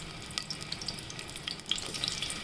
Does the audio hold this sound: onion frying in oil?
yes